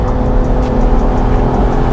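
A Lotus Emira's engine and muted exhaust heard from inside while driving, a steady loud drone with whirring engine tone and road noise and no gear-change peaks, with no one speaking.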